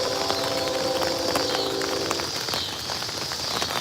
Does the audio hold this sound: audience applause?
no